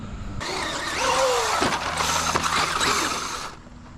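A Traxxas UDR RC truck tears across sand, its whining electric motor rising and dropping in pitch in a few quick bursts over about three seconds, close by and fairly loud, then cutting out.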